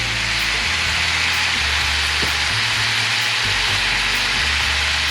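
Butter and sausage stir-frying in a pan, a steady, fairly loud sizzle with scraping over a low background hum throughout.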